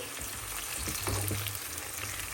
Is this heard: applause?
no